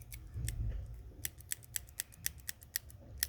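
Mechanical pencil, out of lead, clicked repeatedly: a run of sharp, evenly spaced ticks, close and crisp over a low room rumble.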